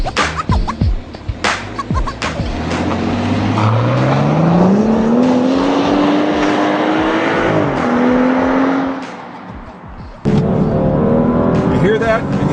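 BMW X5 engine revving hard in sport mode toward 7,000 RPM, a loud close rising engine note that climbs, holds, then drops off, followed by brief clatter.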